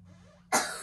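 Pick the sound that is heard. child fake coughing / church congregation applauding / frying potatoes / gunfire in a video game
child fake coughing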